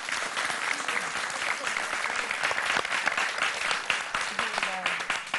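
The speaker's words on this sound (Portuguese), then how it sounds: "Mãe Azuda, Bebo Clone, para os vossos aplausos!" Dense applause from an audience at a live Portuguese comedy show, steady and loud throughout, with scattered voices and cheers mixed into the clapping.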